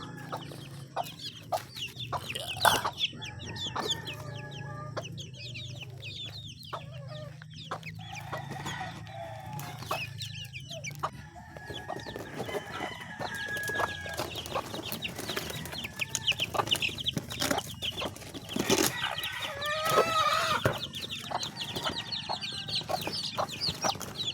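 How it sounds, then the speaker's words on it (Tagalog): A brood of chicks cheeps busily among clucking hens in a farmyard, with a dense, constant chatter of overlapping peeps and clucks close by and no talk over it. "Lapag muna natin itong ating ating mga sisiw."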